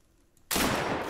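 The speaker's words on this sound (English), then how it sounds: "let me get the first shot off" Single sharp gunshot from the game Deadside, near and loud after a short quiet lead-in, its blast and tail filling the rest of the moment.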